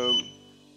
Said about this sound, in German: das Gepiepe quasi, wenn ich einen Rückwärtsgang einschalte